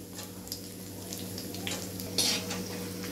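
Quiet, steady sizzle of dry coconut and other ingredients frying in oil for thin poha chivda, with a few soft scraping stirs and a brief louder hiss partway through.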